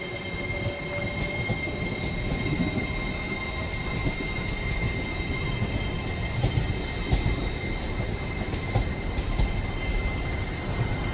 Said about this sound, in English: we're going to get a train coming down this platform in a minute because the lights have gone yellow